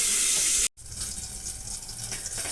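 Water poured from a tap into a bowl of ground cumin and coriander, a loud steady rush that cuts off abruptly, followed by a quieter hiss.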